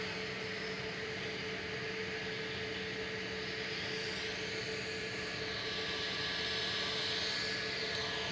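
A passenger jet departing Manchester Airport for Prague produces a continuous broadband engine roar with steady tonal whines, loud and unbroken across the whole stretch with no talking.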